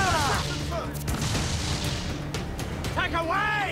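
Ship cannons fire in Assassin's Creed 4: Black Flag during a naval battle, with repeated heavy booms and crackling blasts over ocean rumble, and crew voices shouting at the start and end.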